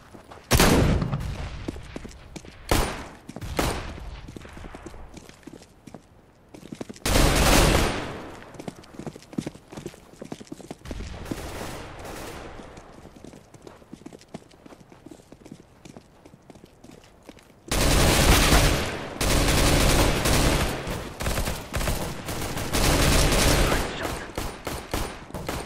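Gunfire in Counter-Strike: Global Offensive rattles in bursts and rapid volleys, loud and close, broken by short gaps and ending in a long sustained barrage.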